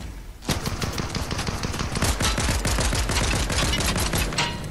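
Loud rapid gunfire in a battle royale video game, sustained bursts of close shots rattling on for several seconds after a brief quieter start.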